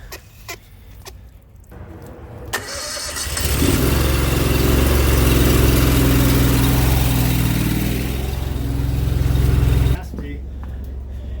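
A hydro jetter engine for sewer jetting starts up and runs loud and steady for several seconds, then drops back to a lower idle, with a voice briefly heard early on.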